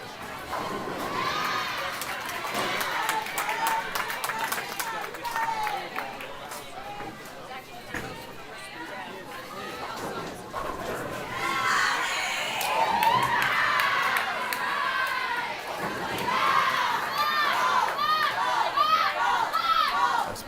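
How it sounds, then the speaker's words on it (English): A crowd at a college bowling match cheers and shouts in waves, loud and close, over a steady hubbub of chatter with voices rising and falling throughout. "It's been a while since we've heard the black gold cheer"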